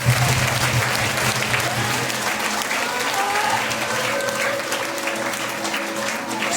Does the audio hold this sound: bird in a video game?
no